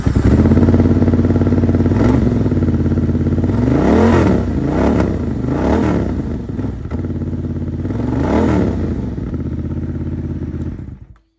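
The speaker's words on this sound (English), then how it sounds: "this thing actually sounds like a proper motorcycle" A 2025 Honda CB750 Hornet, US spec, revs through its stock exhaust, loud and close, with a steady idle rumble broken by several sharp throttle blips that rise and fall before the engine cuts off.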